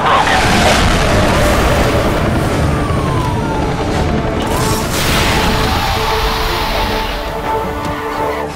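A car bursts through a police roadblock in Need For Speed Hot Pursuit, a loud sustained crash and boom with roaring engine and sweeping whoosh-like tones, fading slightly toward the end.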